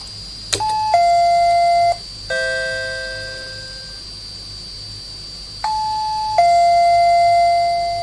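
A Singapore SBS Transit bus stop request bell chimes twice, each a sharp electronic ding-dong tone pair, loud and close, with a separate descending tone sequence between them and quiet bus interior hum beneath.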